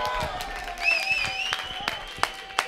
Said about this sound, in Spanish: Venga, fuerte aplauso ahí.